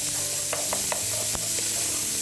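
Onion and garlic sautéing in butter, a steady close sizzle with a few soft stirring clicks and taps over it.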